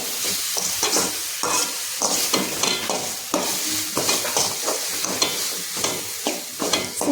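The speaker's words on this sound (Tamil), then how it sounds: "அடி பிடிச்சிடாம கொஞ்சம் கிண்டிக்கோங்க." A tomato masala fries in a pan for a mackerel (ayala) fish curry while a spoon stirs it in steady scraping strokes over a continuous close sizzle, with no talking.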